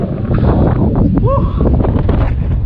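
Steady wind blowing across a high ninth-floor viewpoint overlooking the landscape toward Mount Banahaw, a constant rushing buffet on the microphone with voices talking over it.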